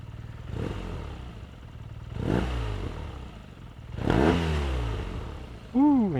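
A BMW R NineT Urban G/S motorcycle engine is blipped three times, each rev rising and falling with a throaty boxer bark, close and moderately loud, ending with a brief higher whine.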